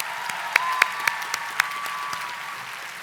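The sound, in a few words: applause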